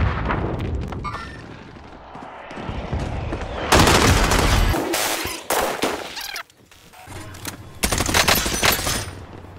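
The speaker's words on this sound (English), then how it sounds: "I'm being shot at from somewhere behind me" Rapid bursts of automatic gunfire from a shooter video game, with a steadier stretch early on and loud dense volleys cutting in from about four seconds, several sharp clusters following close and heavy.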